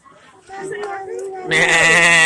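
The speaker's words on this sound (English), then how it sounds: "Look at the goat." A goat bleats loudly and close at a live-animal petting setting, a long wavering cry following quieter nasal calls, with people talking nearby.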